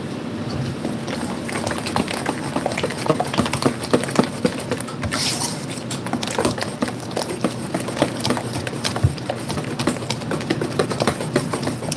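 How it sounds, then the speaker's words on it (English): Batter is whisked in a bowl by hand: a rapid, steady stream of light clicking taps from the whisk against the bowl, close and continuous for the whole stretch. "I'm gonna whisk again"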